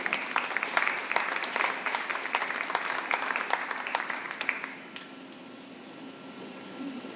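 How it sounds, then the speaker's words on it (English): Applause at the LHS Cardinal Awards 2024, a crowd clapping in a dense, even patter for about five seconds, then fading out into a quiet room. "A round of applause"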